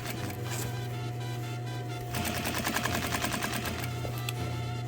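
Sewing machine stitching a hem at a 4 stitch length, running steadily with a rapid mechanical whir that grows louder and more rhythmic partway through, with no talk over it.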